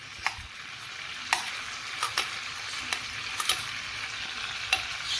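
Finely chopped garlic frying in hot butter gives a faint, steady sizzle, broken by occasional sharp crackles and pops, with no voices present.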